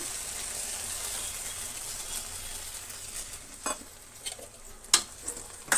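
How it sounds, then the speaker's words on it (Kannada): Tamarind juice poured into a frying pan of okra gojju and stirred, with a steady sizzle followed by a few scraping stirs and clinks of a utensil against the pan, close and with no talking. "ಈಗ ನಾನು ಹುಣಸೆ ಹುಳಿನ ಬಿಡ್ತಾಯಿದ್ದೀನಿ"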